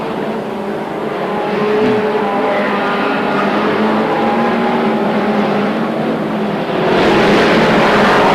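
BriSCA F1 stock cars roar across the finish line in a 1992 Northampton race, a loud, dense blend of engines that swells as the pack passes.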